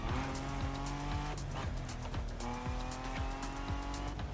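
Toyota Supra A80 Special Edition in The Crew Motorfest racing game, a loud continuous engine roar climbing through repeated gear changes with rising revs, plus some tire squeal, heard close and steady throughout.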